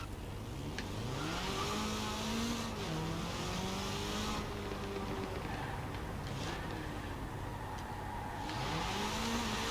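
A Porsche 911 engine in the racing game Forza Horizon 4 drones and revs up and down through the gears, a steady mid-pitched growl rising and falling under continuous road and tyre noise, close and loud throughout.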